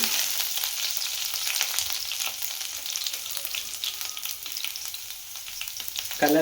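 Vegetables and ginger frying in a pan over medium flame for veg hakka noodles, giving a continuous close sizzle with scattered crackles and a louder burst at the end, no talking.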